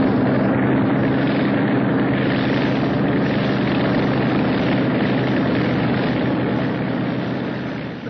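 A propeller aeroplane flies overhead with a loud, steady droning engine roar that holds constant, then begins to fade slightly at the end.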